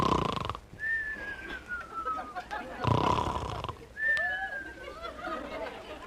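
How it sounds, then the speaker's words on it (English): A man snores on a train in an old-time radio comedy, with two drawn-out snores ending in whistling exhales, fairly close and heard alone. "Every night it's the same thing, snoring and mumbling."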